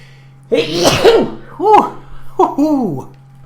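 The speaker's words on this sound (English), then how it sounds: "Oh, I gotta sneeze." A loud sneeze bursts out, followed by voiced exclamations, over a steady low hum.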